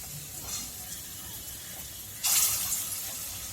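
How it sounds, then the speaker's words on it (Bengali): Battered pointed gourd fritters dropped into hot mustard oil, a quiet background hiss bursting into a sudden loud, bright sizzle as they hit the oil and then holding steady. "সরষার তেল ভালো করে গরম করে নিয়েছি এবারে আমি বড়াগুলো সব দিয়ে দেবো"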